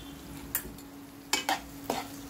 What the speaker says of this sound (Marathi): फिरवून घ्या